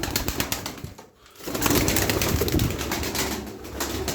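Tumbler pigeons in a loft coo steadily, a low continuous murmur from a whole flock at close range, with a brief dip partway through before the cooing resumes.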